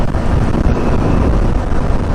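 Loud, continuous wind buffeting the microphone with a heavy low rumble and gusty roar, no voices.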